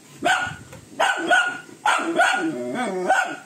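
A dog barks close by in a rapid series of sharp, loud barks, some drawn out into whining, yowling tones near the end, with no talk over it.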